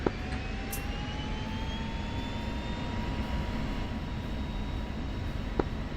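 F-16C jet engine at military power for takeoff in the DCS flight simulator, a steady loud roar with a thin whine slowly rising in pitch, continuous and close with no speech.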